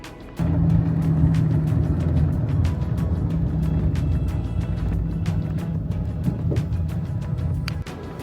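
A car's interior on a drive toward the desert at Quartzsite. A steady, loud, low road and engine rumble fills the cabin throughout, with a faint click near the end.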